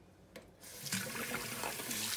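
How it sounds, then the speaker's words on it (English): Cold tap water gushes from a kitchen faucet into a pot of freshly boiled eggs, starting after a brief quiet moment and then running loud and steady until the end. "We're gonna add cold water"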